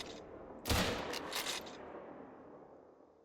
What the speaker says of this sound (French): Deux balles coup sur coup.